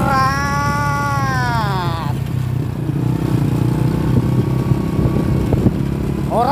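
A motorcycle rides along a rural road on the way to cut grass, its engine droning steadily and close. A higher whining tone rises and falls near the start and end.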